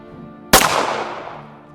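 A single sharp gunshot in the anime Babylon cracks out loud and close after a quiet moment, then trails off into a long, fading reverberant tail.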